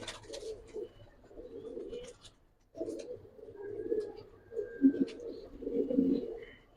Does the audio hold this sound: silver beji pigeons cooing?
yes